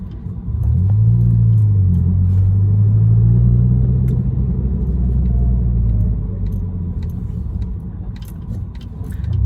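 A Proton Inspira fitted with a Works Engineering drop-in air filter drives along, its engine giving a loud, steady low drone and road rumble from inside the cabin that rises and eases slightly.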